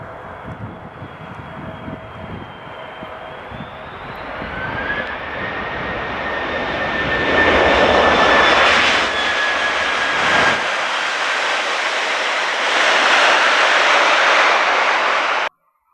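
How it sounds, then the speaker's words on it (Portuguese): A TAP airliner comes in for an emergency landing at Gander in a bitterly cold, snowy region, its jet engines roaring loud and steady with a rising whine that builds over many seconds before cutting off abruptly. "um avião da TAP fazendo um pouso desse, um pouso forçado, lá em Gander"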